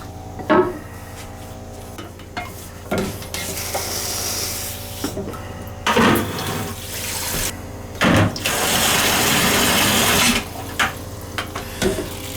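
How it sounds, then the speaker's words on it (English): A toilet is pumped out during winterizing while a water heater drains nearby: irregular bursts of rushing, gurgling water and pump strokes, with a longer sustained flow near the end and no talking. "Pump the toilet out while the water heater's draining."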